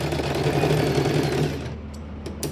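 A sewing machine stitches a seam half an inch from the edge of a blouse neck, a steady close whirring run that stops after about a second and a half, followed by a few faint clicks.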